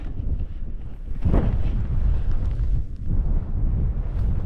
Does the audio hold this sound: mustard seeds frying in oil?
no